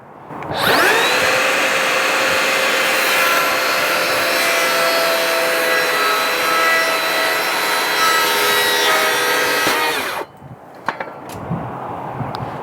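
A loud Makita circular saw whines steadily as it rip-cuts through wood for about ten seconds, then cuts off, followed by a few clunks and taps.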